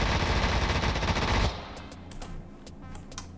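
A radar-guided turret in Stormworks fires as a dense, loud automatic burst for about a second and a half, then stops abruptly and leaves a quieter background with a few faint clicks.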